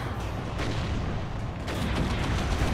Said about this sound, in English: The explosions are quite nice when you zoom right in.